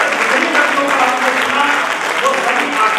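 Applause from an audience at a Hindi poetry gathering (kavi sammelan), a dense, steady clatter of many hands clapping continuously for the whole stretch, fairly loud and close.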